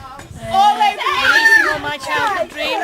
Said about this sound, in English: The noise you can hear in the background is the mud fighting started.